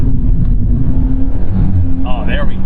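A Scion FR-S sports car accelerates, heard from inside the cabin as a loud, low engine drone that climbs steadily in pitch, with a brief voice over it near the end.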